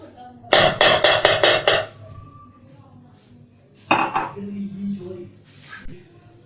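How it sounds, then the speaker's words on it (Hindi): A spoon clinks against the side of a jug while mixing ground sugar into beaten eggs, a quick run of about six sharp metallic taps, then a softer scrape and a few more knocks, with a little talk in between. "इसको हम चम्मच से अच्छे से इसको रोल करते जाएंगे"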